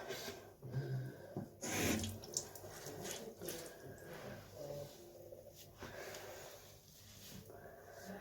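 Running tap water splashes at a bathroom sink while someone washes their face, a close, continuous hiss and patter with uneven bursts and a few snorting breaths, no talk.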